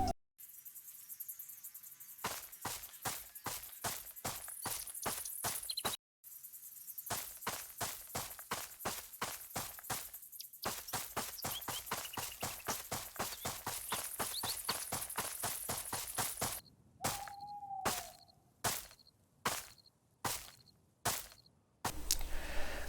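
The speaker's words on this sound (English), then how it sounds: "I will play a clip of the footsteps sounds. You tell me which one of these footsteps is a footsteps of a player" Player footsteps in the Roblox game Apocalypse Rising 2 sound as long runs of quick, sharp, regular taps, shifting pace between stretches and ending in slower, separated steps, with short silent gaps between runs.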